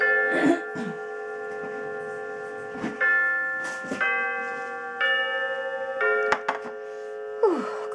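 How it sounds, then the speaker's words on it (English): An indoor clock chime rings out a sequence of sustained bell tones, each new strike layering over the fading hum of the last, clear and close, with brief spoken sounds between strikes. "I'm waiting for my chimes to stop."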